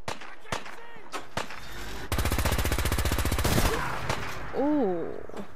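Rapid automatic gunfire rattles in a dense burst of about two seconds, amid single shots, during Fallout 4 combat in a combat zone arena, with someone talking around it.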